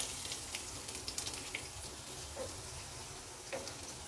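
Chopped onions fry in hot oil with a little cardamom and cloves for aloo do pyaza, a steady soft sizzle with faint ticks and stirring scrapes, heard close and without talk.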